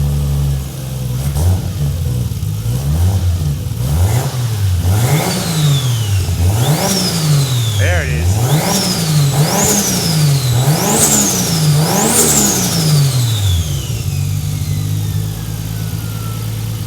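Nissan GT-R engine fitted in a Datsun 240Z, revved loudly and repeatedly in quick rising and falling bursts, with turbo whistles and flutter after each rev, then settling to a steady idle; a brief voice speaks early on.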